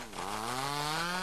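A chainsaw in a video game revs up and runs at a steady, loud drone, its pitch climbing at the start and then holding, with no talking.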